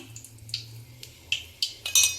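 A utensil scrapes and clinks against a bowl while chickpea vada batter is mixed by hand, giving irregular light metallic taps and knocks, close and quiet.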